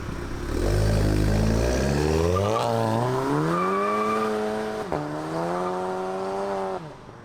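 A VW GTI MK7.5 fitted with an Xforce catback exhaust revs hard and close, its pitch climbing in stages, holding high and then falling away, with faint crackles and no talking.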